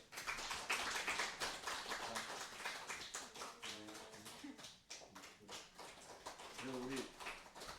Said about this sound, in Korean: 자, 박수를 쳐주세요.